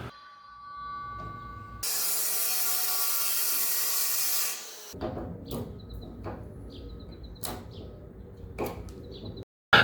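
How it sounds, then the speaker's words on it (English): A hole drilled front to back through wood on a small cruising dinghy: a steady, loud broadband whir for about three seconds, then quieter scraping and shuffling handling noises with a few sharp clicks. "So as I'm drilling this hole to align with the back side of my channel"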